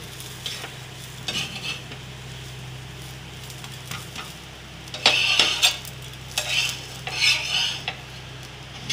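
Masala dosa roasting on a hot tava griddle in Nashik, with a low steady hum and soft sizzle broken by scattered scraping strokes, then a denser cluster of sharp spatula scrapes near the end.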